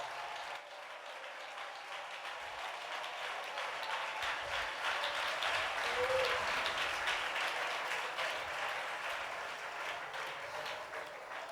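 A congregation claps steadily during a televised Christian sermon, a dense wash of many hands sustained throughout at an even, moderately loud level.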